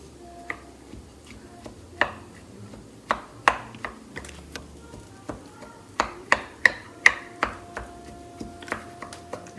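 Cooked lentils with apple cider vinegar being mashed in a bowl make a run of close, irregular thuds and clicks. The taps come in uneven clusters, with no talking.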